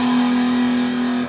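An electric guitar played through a TS9 Tube Screamer into a Joyo Hot Plexi Marshall-style pedal rings out as one sustained, loud, overdriven chord, alone.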